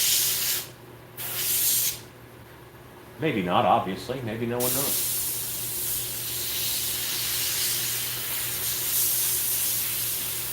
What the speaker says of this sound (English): I'm outlining these straps now with the airbrush.